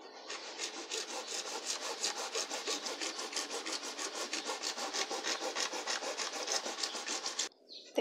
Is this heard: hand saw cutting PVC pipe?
yes